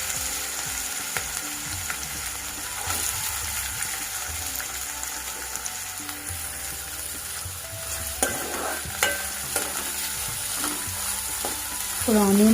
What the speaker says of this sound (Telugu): ఇప్పుడు ఆనియన్ బాగా వేగాలి